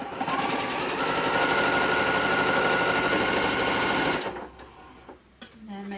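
A sewing machine runs steadily for about four seconds while sewing a quarter-inch seam on quilt blocks, then stops abruptly, leaving quieter handling noises.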